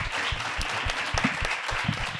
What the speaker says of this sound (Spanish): ¡Ole, un aplauso!